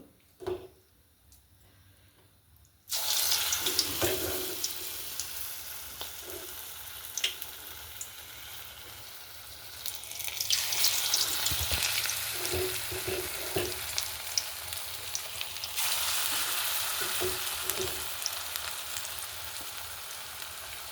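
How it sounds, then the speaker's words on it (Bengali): Bitter gourd pakoras drop into hot white oil in a village kitchen, bursting into a loud, steady sizzle after a quiet start that swells again midway and stays close and continuous. "তেলটা গরম তেলটা গরম হয়ে গেছে বন্ধুরা এইবার ছেড়ে দেবো ওতে"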